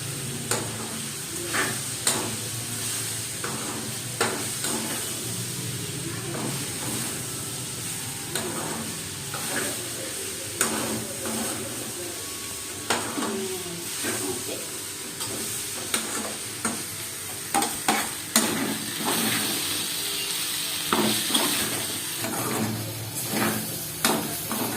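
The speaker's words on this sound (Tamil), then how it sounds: "ஸ்டவ்வை சிம்மில் வச்சுட்டு ஒரு 2 நிமிஷம் அந்த பச்சை வாசம் போகிற அளவுக்கு நல்லா கிண்டி எடுத்துக்கோங்க." Potato and capsicum stir-fried in a pan over a low flame: a soft sizzle runs underneath while a spatula scrapes and taps in regular strokes, with no voices.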